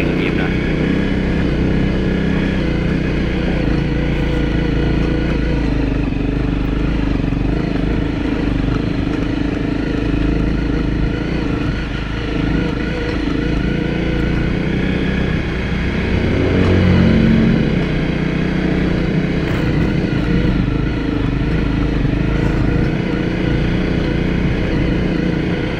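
A motorcycle engine drones steadily while riding a mountain trail, close and continuous throughout with a slight rise in revs midway, over constant wind and road noise.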